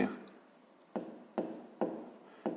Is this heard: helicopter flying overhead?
no